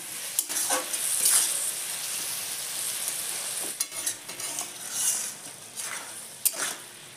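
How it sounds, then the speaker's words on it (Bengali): Shal fish bora curry simmering in a pan after a little water is added, a steady broadband sizzle and bubbling with occasional stirring scrapes, close and moderately loud, no voices. "জলটা দিয়ে ভালো করে ফুটে উঠছে।"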